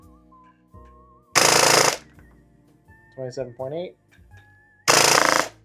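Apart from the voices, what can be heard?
full auto burst from G&G Combat Machine airsoft gun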